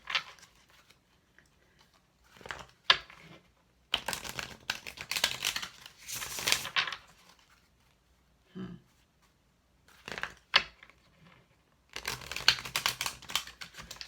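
Tarot cards shuffled and drawn by hand, giving papery riffling and snapping bursts in several separate clusters with quiet gaps between, close to the microphone and without talk.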